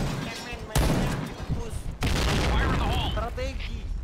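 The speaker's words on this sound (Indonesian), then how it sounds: "bomnya langsung meledak, iya, bomnya langsung meledak asli" A loud blast bursts out, followed by a dense barrage of booming explosions and gunfire in the game Point Blank, with voices chattering excitedly over the noise.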